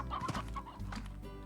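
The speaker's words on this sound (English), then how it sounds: "And there's even more chickens." Chickens cluck in the video game Slime Rancher, a few close, quick clucks in an uneven run with no talk over them.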